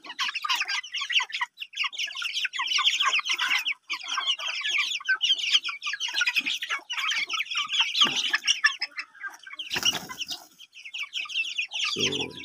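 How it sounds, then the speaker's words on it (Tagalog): A flock of native chickens clucks busily and continuously at close range, with overlapping chatter throughout and a few louder bumps and rustles near the end. "Native chicken."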